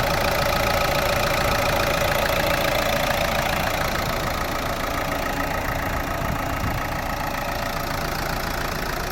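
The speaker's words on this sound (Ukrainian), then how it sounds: "Двигун працює тихенько, рівненько" A Renault Megane 3 GT-line engine idles smoothly and evenly, a steady low hum with a faint rhythmic pulse and no voices.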